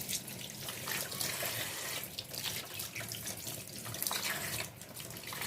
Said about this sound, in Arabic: طبعا لازم اغسلها واحدة واحدة عشان لو رملة ولا اي حاجة